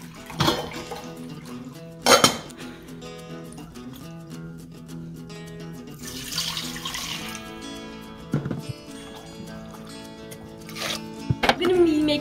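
Tap water runs into a pot as four cups are measured for vegetarian egg drop soup, a steady close stream broken by brief clanks and pauses, with a louder gush midway.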